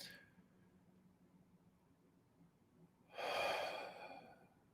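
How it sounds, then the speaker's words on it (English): A person takes a single deep breath in. It is a close, airy inhalation of about a second, heard alone after a quiet stretch. "take a deep breath in."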